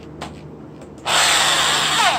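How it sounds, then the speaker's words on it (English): A power drill whirs to life after a couple of faint clicks, running at a loud, steady high-pitched whine close by as it drills out a Jeep outer axle shaft seal. "You drill it out"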